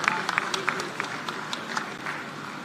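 Audience applause at a stage ceremony welcoming a guest: dense, steady clapping from a crowd that holds an even level for a few seconds, with scattered sharper claps standing out.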